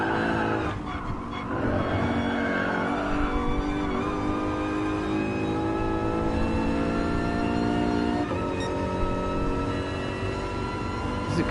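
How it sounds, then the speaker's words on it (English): In Gran Turismo Sport, a race car's tweaked gearbox gives a high, sustained whine that rises and holds over a roaring racing engine, with tires squealing now and then. "I tweaked with the gearbox and now there's all of a sudden this whining sound coming from it."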